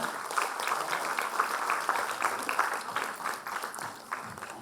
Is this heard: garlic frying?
no